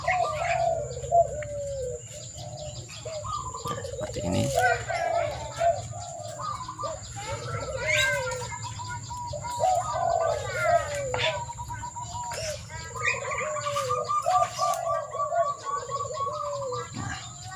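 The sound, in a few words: zebra dove cooing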